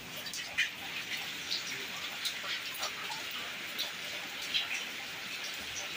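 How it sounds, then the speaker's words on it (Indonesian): Heavy rain falls outside in front of a house during an outdoor cooking session, a steady dense patter with scattered louder drips and ticks on surfaces close by. "Cuaca hujan dingin-dingin."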